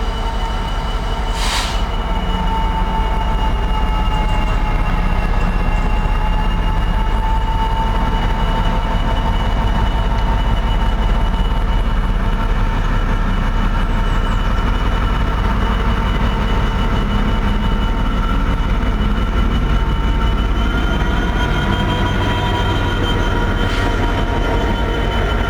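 A freight train rolls through Tilehurst on the main line, a loud, close, continuous rumble and rattle of wagons with wheel squeal and a brief horn-like tone near the start, steady throughout.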